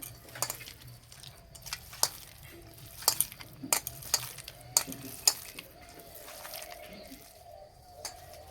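Soaked, softened flattened rice (chira) being kneaded by hand in a bowl, with soft squishy mashing under faint clinks and sharp taps against the dish, irregular and close.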